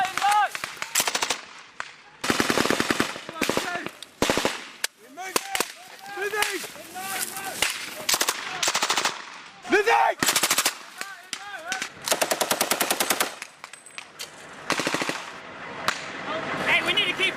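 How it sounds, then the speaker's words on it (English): Automatic gunfire rings out during a military field exercise, long rapid bursts repeating loudly and close, with shouted commands and talk overlapping between volleys. "get that gun going"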